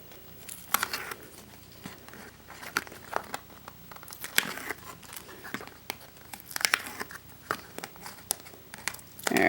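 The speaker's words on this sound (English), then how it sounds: "make sure it gets a good stick, and then I can peel it off." Score tape being peeled off the paper of a 6x6 mini album, heard up close as a series of crinkly, crackling tears and rustles that come in irregular bursts with no talk over them.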